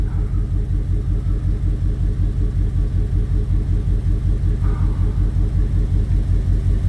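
A 2002 Jeep Grand Cherokee 4.7 V8 idling with a misfire from a dead number three ignition coil, its low rumble pulsing in a steady uneven lope, close and continuous.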